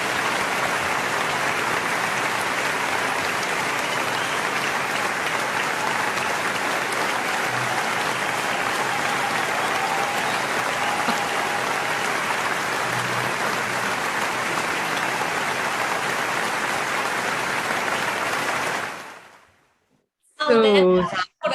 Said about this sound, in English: big applause for this really engaged talk